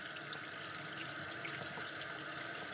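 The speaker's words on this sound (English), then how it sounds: "And then we can rinse the denture brush" Running tap water pours steadily into a sink as a denture brush is rinsed beneath it, a continuous close hiss and splash with no talking.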